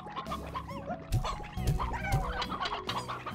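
Chickens on a ranch in Slime Rancher clucking repeatedly, several close, busy bursts overlapping in a lively chatter.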